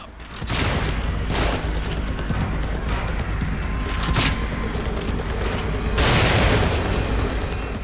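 Bursts of booming explosions and rapid gunfire-like blasts from the video game The Evil Within come in several waves, loud and close, with a steady rumble between them.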